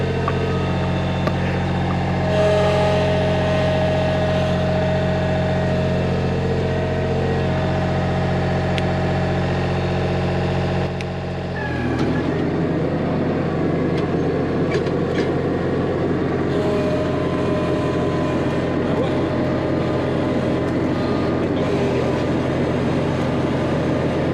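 A John Deere Z997R diesel zero-turn lawn mower engine runs steadily with a loud, even drone, shifting to a rougher, busier tone midway as the load changes, with no talk over it.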